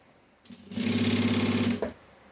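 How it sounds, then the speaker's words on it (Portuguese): A sewing machine runs a short burst of stitching along open bias binding on a waterproof roll-up pouch, a fast steady whirring hum lasting about a second, close and loud, with quiet moments before and after. "Costura aqui o viés aberto."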